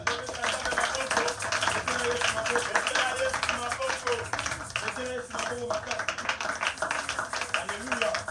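Congregation clapping and cheering at an evangelical worship service, a dense continuous wash of applause with voices and music running underneath throughout.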